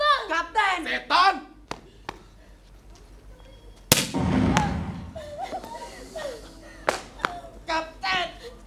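A single sharp, loud gunshot bursts out mid-scene in an Indonesian film, decaying into a rumbling tail, with shouting voices before and after it.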